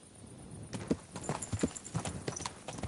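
Horse hooves clip-clop at a steady walking rhythm in the medieval game Kingdom Come: Deliverance 2, close and distinct over a low outdoor background.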